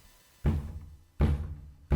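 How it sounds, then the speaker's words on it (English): Two heavy knocks on a door land about a second apart, with the start of a third at the end; each is a loud, close, booming thud over quiet room tone. "Suddenly, there was a knock at the door."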